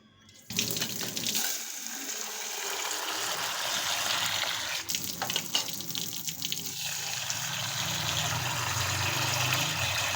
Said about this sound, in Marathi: तांदूळ धुवून घ्यायचे आहेत.